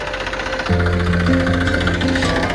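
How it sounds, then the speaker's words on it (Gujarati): A tractor engine rumbles steadily, its drone thickening and growing louder shortly after the start, then holding a constant, throbbing pitch. "હા હા આવી ગયું ટ્રેક્ટર"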